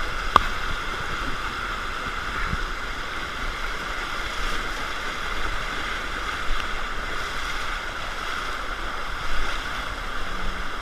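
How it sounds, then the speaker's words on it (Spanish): Floodwater rushes steadily through a flooded street in Morón, a continuous broad wash of flowing, churning water with occasional faint splashes and knocks, with no talk. "La fuerza del agua es terrible."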